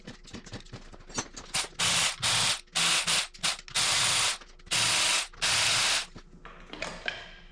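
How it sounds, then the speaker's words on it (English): A ratchet loosens the valve cover bolts on a Kawasaki ZX6R engine, heard as rapid close clicking and several loud sustained ratcheting bursts in a fast, irregular rhythm, with no voices. "I guess we'll pop this valve cover off, take a look there"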